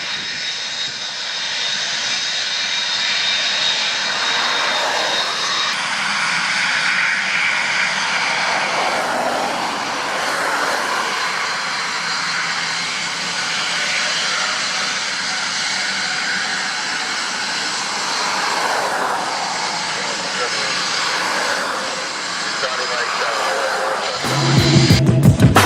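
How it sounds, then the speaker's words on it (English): Jet aircraft engines roar continuously at the main runway of Lynden Pindling International Airport, loud and steady with swelling passes throughout, and a rumbling burst near the end. "This is the main runway where planes come and take off and land."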